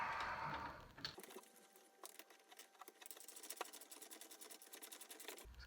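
Ratchet clicking in fast, steady bursts as brake caliper bolts are snugged up on a C6 Corvette during rear rotor and brake pad replacement, close and fairly quiet, following a brief hiss at the start.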